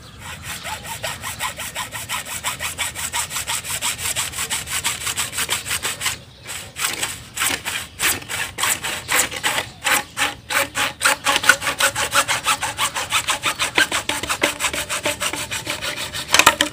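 A hand saw rasps steadily through a tree branch, cutting at an angle, fast back-and-forth strokes close by, the rhythm briefly pausing then resuming with quick regular strokes.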